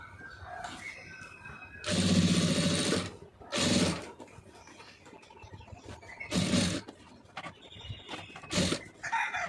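A sewing machine stitches piping onto fabric in several short whirring bursts separated by pauses. A rooster crows faintly in the background.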